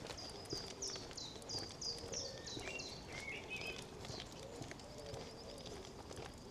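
Faint birdsong in the open air in spring, a thrush's repeated short whistled phrases with a chiffchaff and chaffinch, over quiet background rustle and occasional distant cooing.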